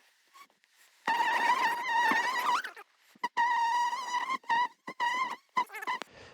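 Honey bees buzz from an open hive being inspected, a close, loud, steady drone with wavering tones, broken by short gaps and bursts near the frame.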